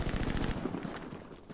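Rapid bursts of automatic gunfire crackle in the Hell Let Loose video game, a dense rattling volley that gradually fades and thins over a second and a half.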